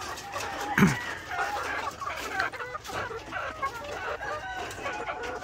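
Sweater Asil game fowl pullets clucking in a farm setting, scattered soft clucks and calls overlapping at moderate distance, with one sharper call near the start.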